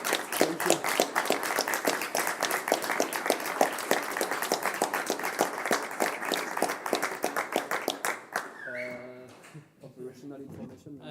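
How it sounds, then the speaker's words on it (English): Conference audience applause, a dense crowd of clapping hands that runs strongly for about eight seconds and then dies away as a speaker's voice comes in. "So it is us that applause you now."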